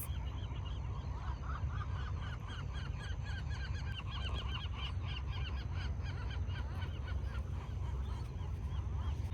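Gulls calling at a nesting colony on Anacapa Island, a continuous chorus of many honking, yelping calls at a middling distance over a low steady rumble of wind or surf, faint overall with no talking.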